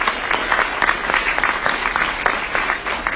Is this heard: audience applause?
yes